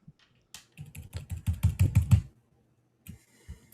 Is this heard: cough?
no